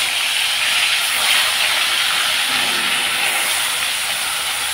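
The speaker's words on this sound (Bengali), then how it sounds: "মাছগুলোকে এক এক করে ছেড়ে দিচ্ছি।" Whole fish slid one by one into hot mustard oil in a kadai hiss with a loud, steady, unbroken sizzle that stays level for the entire stretch, with no voices.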